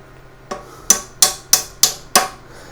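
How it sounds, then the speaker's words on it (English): Six sharp metallic taps of a hammer striking a pin on a KTM fork seal cleaning tool, evenly spaced, close and loud, with a quiet pause before the first blow. "it probably just needs a little bit of love with a hammer"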